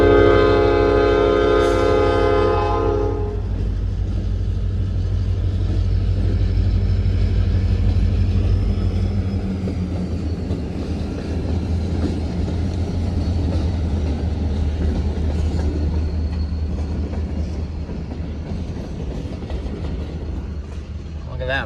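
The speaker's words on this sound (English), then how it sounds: "Look at that, they got quite a little train there." A Canadian National freight train on the Matane Subdivision sounds a loud, close, harmonic horn blast and then rolls past with a heavy, steady rumble of railroad cars and faint wheel clatter.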